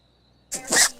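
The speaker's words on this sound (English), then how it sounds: "I'm going to sneeze." A single close sneeze outdoors on a golf course, a sudden hissing burst after near silence with a faint steady insect whine behind it.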